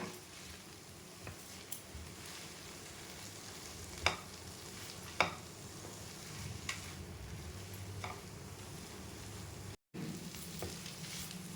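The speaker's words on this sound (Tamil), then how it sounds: "இதே நல்லா கிளறி விட்டுக்கோங்க" Coconut being stirred into tomato chutney in a pan, a steady low sizzle with a few sharp spoon scrapes and taps against the pan, close and alone.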